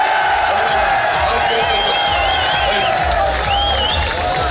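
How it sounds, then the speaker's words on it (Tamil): Crowd clapping and cheering at an all-India match between South Central Railway and Himachal Pradesh, a steady dense roar of applause with whistles and whoops throughout. "நமது கோவால் அவர்களுக்கும் தயவு செய்து கைத்தட்டுகிறார்கள்."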